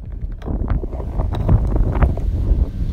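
Gusty outdoor wind buffets the microphone with a steady low roar and rumble, swelling and easing without pause for the whole stretch.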